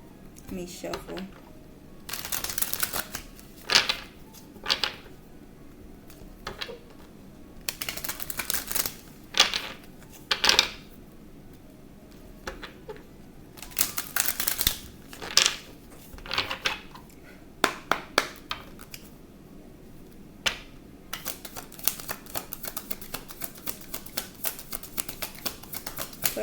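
Tarot cards are shuffled in repeated bursts of rapid riffling and tapping, with pauses between, close up and fairly crisp.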